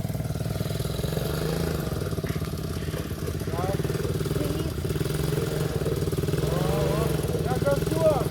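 Dnepr MT-11 motorcycle engine running steadily outdoors, a continuous low mechanical drone with slight throttle rises, heard up close under people talking.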